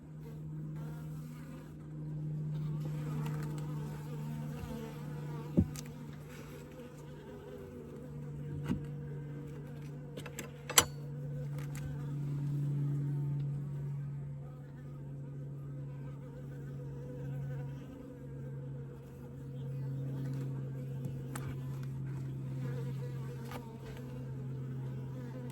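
Honey bees buzzing around an open 20-frame Layens horizontal hive during an October inspection, a steady low drone throughout with occasional clicks and handling knocks.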